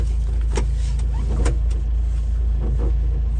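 A Honda Acty kei mini truck with four-wheel drive pulls away, its small engine a loud steady drone heard close from inside the cab, with a few light knocks and rattles on top.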